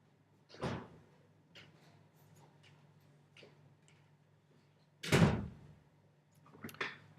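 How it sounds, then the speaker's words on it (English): A door indoors: two distinct knocks or thuds, one early and a louder one later, with faint ticking and a soft bump at the end over a quiet room hum, no talking. "The door."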